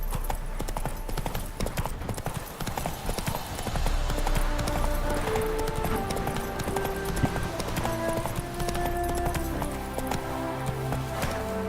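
Roach, the horse in The Witcher 3, gallops in a steady rapid clip-clop of hooves that runs the whole stretch beneath game music and ambience.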